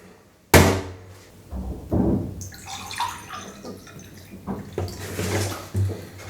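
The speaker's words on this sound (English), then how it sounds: "And then you have to add 1 cup with water." A cup of water poured into a pot of rice, opening with a sharp knock, then splashing and trickling pours with clinks of the pot, moderately loud and close.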